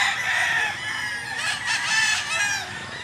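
Roosters and chickens in Mantalungon, Cebu crow loudly and close, overlapping calls with clucking around them, filling the whole stretch without talk.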